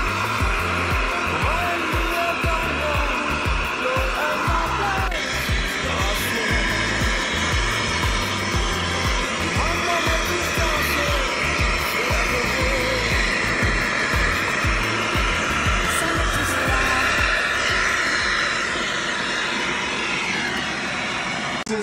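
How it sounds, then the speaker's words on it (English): A torch roars steadily as it heats sterling silver, silver alloyed with copper, in a crucible, a loud continuous rushing hiss that runs unbroken throughout with no speech. "We're just going to bring that to a nice heat now."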